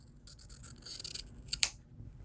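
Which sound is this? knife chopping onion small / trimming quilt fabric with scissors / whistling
trimming quilt fabric with scissors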